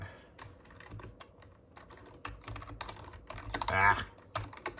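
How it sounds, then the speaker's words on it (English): Keys clatter on a computer keyboard as a search term is entered into a fitness program site, a steady run of close, crisp clicks with a denser burst near the end and no talking. "So let's type in Powerbuilding."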